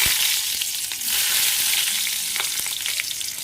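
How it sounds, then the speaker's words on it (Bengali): Green chillies fry in hot oil in a pan while a khichdi is being cooked, giving a loud, continuous close sizzle broken by a few sharp crackles and the scrape of stirring. "আর আমি এখানে কাঁচা লঙ্কাটা দিয়ে দিচ্ছি"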